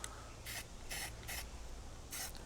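Rust-Oleum spray paint hissing from a can fitted with a trigger handle, four short bursts, each under half a second, with pauses between, close and fairly quiet, no talking.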